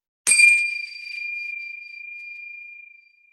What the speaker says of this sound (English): These are my Nepalese prayer chimes, and they work on resonance. So the sound elongates.